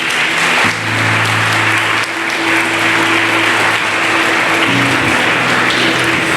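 A church congregation applauds loudly and steadily, a thick wash of clapping sustained throughout while sustained keyboard or organ chords play underneath.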